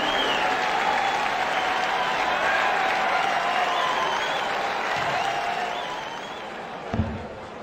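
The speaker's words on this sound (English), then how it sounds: "Applause." A darts crowd at a PDC World Matchplay event bursts into sustained loud applause and cheering after a maximum 180, holding steady before slowly fading, with a brief thump near the end.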